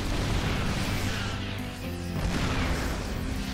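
Disruptor shot detonating a group of four mines in a StarCraft II Terran versus Protoss match, a dense continuous blast of explosive crashes and bursts, loud throughout with a brief dip midway.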